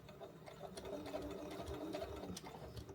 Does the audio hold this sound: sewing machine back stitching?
yes